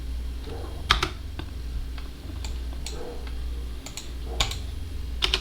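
Typing on a computer keyboard, scattered sharp key clicks with a couple of louder presses like the Enter key, set over a low steady background hum with no talk.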